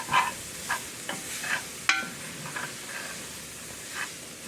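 Trinity vegetables for gumbo softening in a pot over low heat, a gentle sizzle broken by a few light stirring scrapes and clinks, no one talking.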